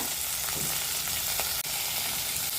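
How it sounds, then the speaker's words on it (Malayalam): Beans and green peas frying in hot oil with a pinch of salt and sugar, a steady dense sizzle with faint stirring clinks, close and continuous throughout. "എണ്ണ നല്ലതുപോലെ ചൂടായി കഴിഞ്ഞാൽ ഇതിലേക്ക് വെജിറ്റബിൾസ് ഇട്ട് കൊടുക്കാം. Beans, green peas"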